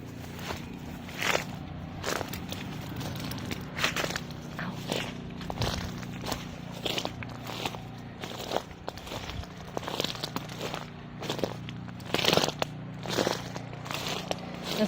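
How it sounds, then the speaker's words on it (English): Footsteps crunch over dry bark and fallen branches on an Australian walk, a steady run of crisp crackling steps close by, with a low mechanical hum from distant lawnmowers underneath. "the crunch under the feet of the dry bark and the branches"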